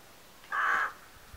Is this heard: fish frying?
no